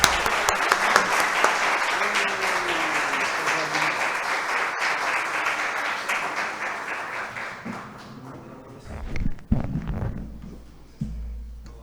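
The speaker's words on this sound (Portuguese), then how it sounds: "Uma salva de palmas" A room of people at a public cultural and social-inclusion hearing breaks into a long round of applause that tapers off, followed by a few scattered claps and brief talk.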